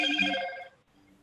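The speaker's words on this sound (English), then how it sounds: "Sorry, I wasn't muted. That was my phone." A phone rings once in a short burst during an online meeting, loud and close for well under a second before cutting off to near silence.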